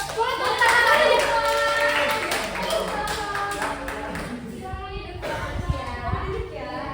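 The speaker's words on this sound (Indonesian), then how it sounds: "Boleh tepuk tangan lagi ya." An audience claps at an Indonesian stage event, a dense patter of hands that fades after a few seconds, mixed with talk and cheering voices.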